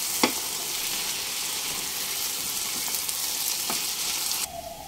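Poppy seed paste and green chillies fry over a medium flame, giving a steady close sizzle with a few faint stirring scrapes that drops away near the end. No one speaks.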